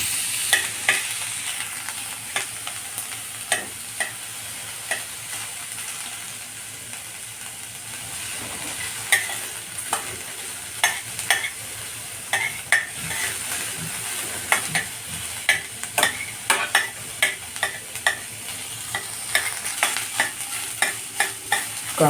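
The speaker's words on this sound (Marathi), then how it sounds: "कांदा फ्राय करायचा, पूर्ण फ्राय करून घ्यायचा नाही आहे," Chopped onion frying and being stirred in a pan, left partly raw, with a steady sizzle and repeated scraping strokes of a spatula throughout, close and fairly loud.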